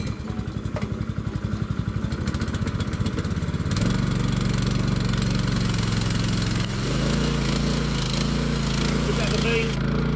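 A small gasoline engine on a homestead water pump, started with fuel on and choke set, runs loud and close with a steady throbbing drone that deepens and settles into a lower, fuller note partway through, holding without a break.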